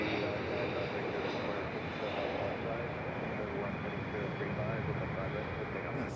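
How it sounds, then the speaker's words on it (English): A Southwest airliner departing Raleigh-Durham airport on the east side of the field, its jet engines giving a steady, broad roar that holds loud throughout. "Southwest leaving over on the east side of the airport"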